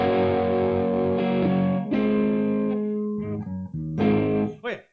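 Electric guitar chords from a song with heavy overdrive distortion, strummed and left to ring, each chord sustaining before the next, ending with a bending, fading note.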